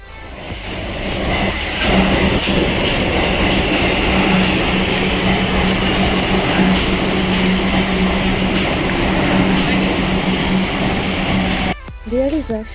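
A metro train rolls along at steady speed, a loud continuous rumble with a low steady hum and faint rhythmic clatter, easing off near the end.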